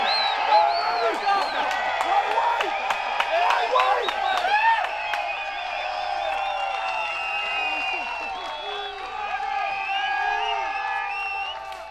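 Spectators at a professional disc golf tournament cheer and whoop in a sustained, lively swell, with scattered claps and shouts over a steady crowd roar at the third round of the MVP Open.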